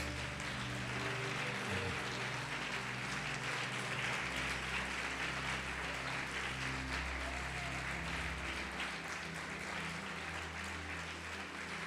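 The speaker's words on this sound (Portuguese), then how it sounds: "Você pode aplaudir o Senhor Jesus por isso?" Church congregation applauding for Jesus, a broad wash of clapping blended with sustained low music tones underneath, moderately loud and continuous, no talk.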